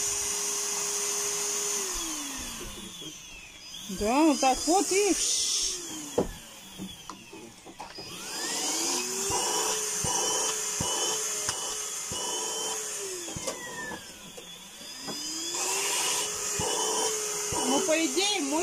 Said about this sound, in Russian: И все, и можно пылесосить.